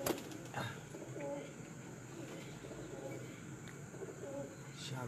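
Pigeons coo in a steady, low murmuring drone, with soft overlapping calls running through the whole stretch at moderate distance and no clear speech.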